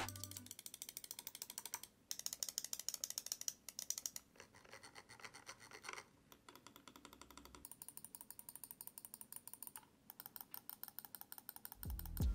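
Rapid clicking from the buttons of a Razer DeathAdder V2 Pro wireless gaming mouse, crisp close-up clicks in dense runs and short bursts with brief pauses, heard alone without talk.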